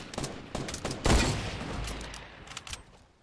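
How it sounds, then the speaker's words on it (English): Gunfire in the video game Fortnite cracks out in several quick bursts of rapid shots, moderately faint, with one heavier volley in the middle and scattered shots trailing off. "Shots."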